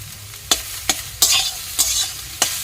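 Papaya greens are stir-fried with chopped coriander over a low, steady sizzle, with about five sharp, close spatula scrapes against the pan at uneven intervals and no talking.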